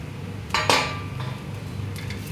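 Fried cashews, raisins and paneer are stirred into sweet pulao in a pot, giving a couple of close metal clinks and scrapes of a spoon against the pot over quiet kitchen background.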